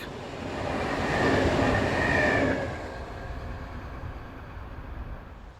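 A Swiss RABe 503 ETR 610 tilting electric train passes on the Gotthard line's south ramp with a rising then fading rumble and rail rush, peaking in the first half before receding into steady distant noise.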